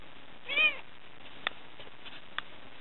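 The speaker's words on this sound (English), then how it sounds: "Go meow." A kitten gives one clear, rising-falling meow up close, followed by a couple of faint, brief chirps in an otherwise quiet room.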